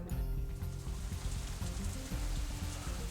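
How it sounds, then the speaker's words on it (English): Steady rain falls outside after dark in a visual novel scene, a dense continuous patter with soft low music or hum beneath, no voices. "it's still raining outside when we exit the Shanghai, though it seems to be letting up a little"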